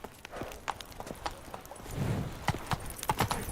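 A horse in The Witcher 3 trots and gallops with rapid, uneven clip-clop hoofbeats, close and moderately loud, with a brief snort partway through.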